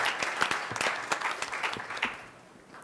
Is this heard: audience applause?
yes